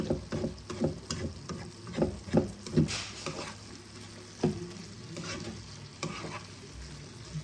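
A spatula scrapes and stirs shredded cabbage for a vegetarian Bengali badhakopi ghonto as it fries in a pan. Rhythmic stirring strokes come over a steady, soft sizzle, up close and with no talking.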